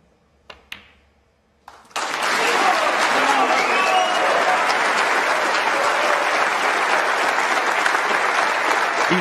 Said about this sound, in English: Just wait for the pots and wait for the applause.